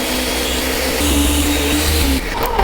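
A Ninja NJ600 blender whirs loudly on sprouted almonds, a dense continuous motor roar with a slight pitch shift midway and a quick cutoff near the end.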